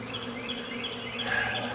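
Steady, continuous buzzing of many bees clustered at the entrance of their nest, heard at close range, a dense droning hum with no pauses.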